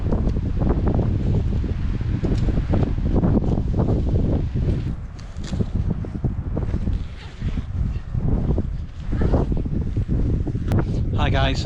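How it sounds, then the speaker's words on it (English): Strong wind gusting around a pitched tent while wild camping at Blawearie in Northumberland, a loud, steady roar with fabric flapping and buffeting the microphone, rising and easing in waves. "the wind's starting to get up a bit now"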